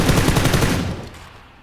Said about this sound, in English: that was a cool grenade